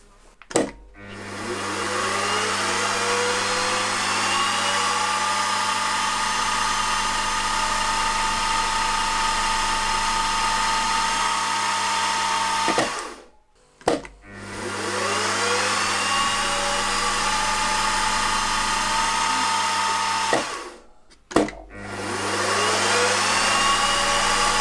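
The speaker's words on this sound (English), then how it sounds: "So I'm going to centre drill first of all, starting at this position here" A machine spindle centre drills holes in a cylinder head for a model opposed twin internal combustion engine. The motor spins up and runs at a steady pitch, then stops briefly, and this happens three times.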